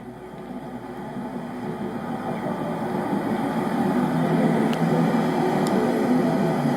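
W Motors Lykan Hypersport from Forza Horizon 3 idling, a steady low engine drone with a faint rising swell, continuous and fairly close with no talk over it.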